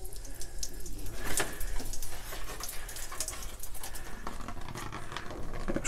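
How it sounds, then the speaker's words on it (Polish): Water drains steadily from a Ferroli DomiCondens F28 condensing boiler during a heat exchanger replacement, a close, continuous splashing trickle with irregular patters and drips. "Wyleci jeszcze trochę wody."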